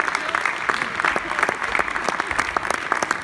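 An audience applauds students of the MFR-CFA in Chemillé after their sketch, with dense, continuous clapping from a small room crowd that runs throughout, some individual claps close by.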